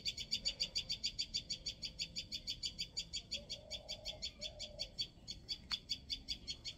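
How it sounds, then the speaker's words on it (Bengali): Birds chirp and sing outdoors in a steady, rapid repeating series of high calls running throughout, with a few lower call notes and background ambience. "কি সুন্দর পাখি ডাকছে, দেখছো? শুনতে পাচ্ছ?"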